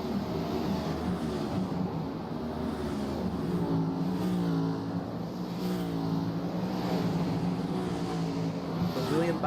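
Stock cars race on USA International Speedway in a racing video game, their engines droning in a continuous, fairly quiet roar with wavering pitch. A commentator talks over the engine sound throughout.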